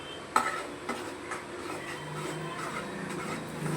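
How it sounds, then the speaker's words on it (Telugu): Halwa being stirred with ghee in a pan, a few distinct spoon knocks and scrapes against the metal over a soft low sizzle, close by and with no talking. "ఒకసారి ఇలా కలదిప్పాలి."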